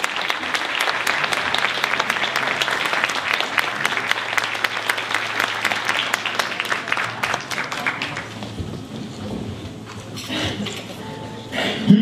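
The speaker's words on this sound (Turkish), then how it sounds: "koro şefimiz Sayın Esa Kunçu alkışlarınızla sahneye davet." Audience applause at a Turkish classical music choir concert in a municipal cultural centre as the choir conductor is invited onto the stage, dense steady clapping for about eight seconds that thins out to scattered claps.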